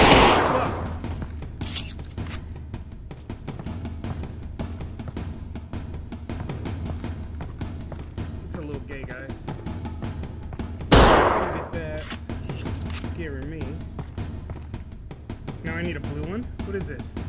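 Gunfire rings out in a VR shooter video game. Loud bursts of shots hit at the start and again near the middle, and people talk over the continuing background noise.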